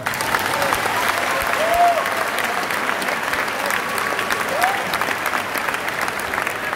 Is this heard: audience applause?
yes